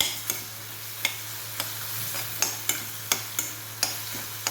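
A ripe banana mixture cooks on low heat in a pan and is stirred, giving regular soft scraping taps about twice a second over a faint steady sizzle.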